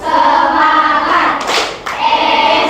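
Schoolchildren in a classroom clap out a rhythmic cheer, steady patterned hand claps that dip briefly midway and then resume, close and loud.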